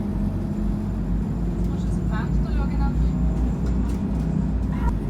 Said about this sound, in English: I took the post bus, which was just a couple of dollars, up this super windy road